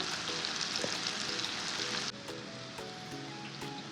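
Dried fish, green chili and onion fry in a pan with a steady, fairly faint crackling sizzle that drops lower halfway through, with small pops scattered throughout.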